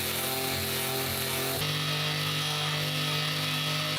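A power tool grinds a rusted cleaver blade held on a wooden block, giving a loud continuous whirring buzz whose pitch shifts abruptly partway through as the load changes.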